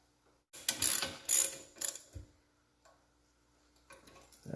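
A ratchet tightens the caliper pins during rear brake pad work on a Dodge Journey, giving a few short, close, loud clicking bursts followed by a quiet gap and a faint final rattle.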